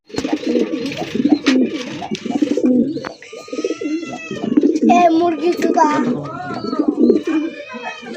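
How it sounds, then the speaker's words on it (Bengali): Pigeons coo repeatedly and close by, fancy egg-laying birds crooning in soft rolling phrases, with some chirps and a voice talking over them now and then. "আজকের কবুতর প্রত্যেকটাই গান গাইলো"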